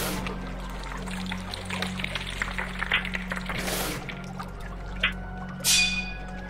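Water drips and trickles in the video game 9 Clues: The Secret of Serpent Creek, small splashes landing over a steady low hum, with a couple of louder splashes near the end.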